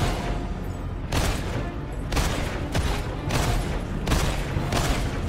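Repeated bursts of heavy gunfire in the survival-horror game Evil Awaits, four or five loud, roughly evenly spaced volleys with brief gaps between them.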